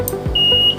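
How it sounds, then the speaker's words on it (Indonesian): An electric buzzer in a ship electrical system demonstration with a relay sounds a thin, steady high-pitched tone for about half a second, close and clear over faint low background noise. "Kita lihat dengan jarak segini buzzer tetap menyala dan relay pun di sini menyala."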